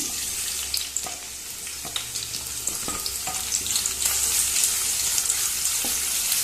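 Chopped onion sizzles and crackles steadily in hot oil in a pan, with occasional stirring clinks, cooking for South Indian tomato rice; no voices.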